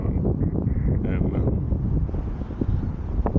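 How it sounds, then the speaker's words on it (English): Gusty wind buffets the microphone outdoors in Cebu, Philippines, a steady, loud rumbling roar that fills the whole stretch. "It's getting kind of windy."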